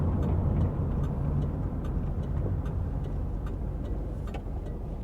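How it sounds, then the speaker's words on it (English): An old-school turn signal flasher in a 1987 Trans Am GTA or 1988 IROC Z28 gives a tinny, evenly paced tick over a steady low cabin and engine rumble, faint but regular through the whole stretch. "it's got the old school flasher, and you hear that tinny tick tick tick"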